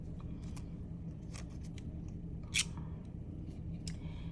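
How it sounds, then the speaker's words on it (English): Crimping scissors, also called pinking shears, cut through paper in a quiet room, making a few faint, scattered snips and one slightly sharper crunch midway through. "They are these crimping scissors."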